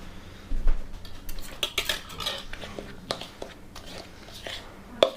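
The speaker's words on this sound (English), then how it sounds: "Now we whisk." Cinnamon is whisked into a crumble topping for a pumpkin coffee cake, with quick metallic clinks and scrapes of a utensil against a bowl in short bursts, and a voice heard faintly at times.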